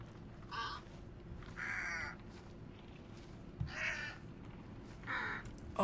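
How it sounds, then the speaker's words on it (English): Crows cawing in a video game, four separate harsh calls spaced a second or so apart, fairly faint and heard on their own over quiet background ambience. "Hey, crows."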